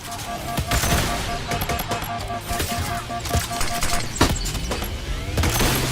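A needler weapon firing in the Halo Doom Evolved mod for Doom, a rapid stream of sharp shots with scattered bursts and impacts, loud and continuous, with no speech over it.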